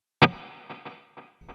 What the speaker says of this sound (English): So I've added just a little bit of delay and reverb